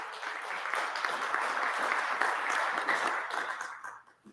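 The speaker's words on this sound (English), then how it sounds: "Give him a nice round of applause." An audience applauds at a presentation on ranked choice voting. The clapping is steady and full for about four seconds, then thins out and fades at the end.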